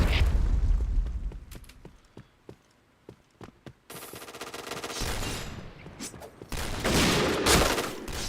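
A grenade explosion in a video game, set among rapid sharp gunshots and clicks, followed by a loud, sustained burst of blast noise and rumbling near the end.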